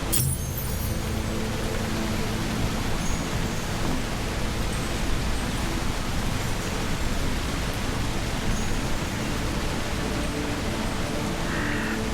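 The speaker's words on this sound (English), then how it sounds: "Rain makes the night come fast." Steady rain falling at night in the video game Where Winds Meet, a dense even hiss that holds constant throughout with no voices.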